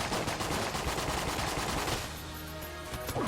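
Rapid automatic gunfire from the highest-DPS gun in Enter the Gungeon, a dense stream of shots pouring out for about two seconds, then thinning into sparser bursts over tonal game sounds, with no talking.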